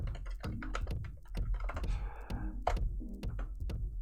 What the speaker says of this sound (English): if I type in something completely wrong